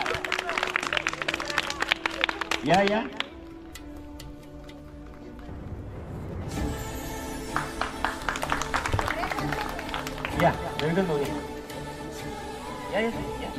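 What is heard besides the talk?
loud clapping for prize winners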